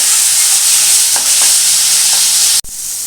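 Onions sizzle steadily in hot oil in a pan for a Bengali potato-egg curry, with a few soft scrapes of stirring, then a brief sharp cut near the end.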